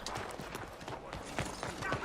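Hooves clop in a quick, steady rhythm at moderate distance, a trotting horse in the video game Red Dead Redemption 2, heard over a faint background murmur.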